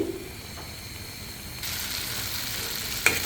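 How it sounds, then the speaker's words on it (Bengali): Spices, chillies and onions fry in a pan, a low hiss that swells into a stronger, brighter sizzle partway through, ending with a single sharp clink. "এখন আমি মশলাগুলো ভালো করে কষিয়ে নেব মরিচ পেঁয়াজগুলো ভালো করে কষিয়ে নিয়ে"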